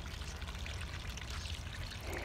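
Water runs steadily from a fish pond filter and falls into a plant pot, a continuous soft pouring trickle heard close and quiet without pause.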